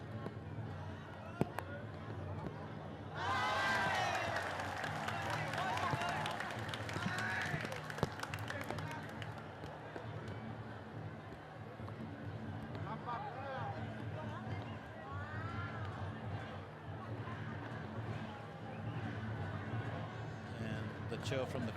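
Stadium crowd at a football match between Công An Hà Nội and PSM Makassar, a loud roar of cheering swelling for several seconds, then settling into a steady murmur under commentary.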